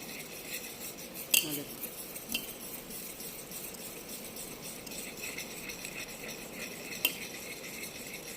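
Homemade malai cream being stirred and churned until butter and ghee separate: a steady, soft wet churning texture with a couple of sharp utensil clinks near the start and end, no voices.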